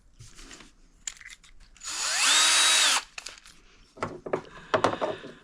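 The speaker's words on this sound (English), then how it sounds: "I'll just drill this out to 4mm" Power drill boring a 4 mm hole for an M4 bolt in an RC boat hull, a steady whining burst of about a second, close and loud, with handling clatter and light knocks around it.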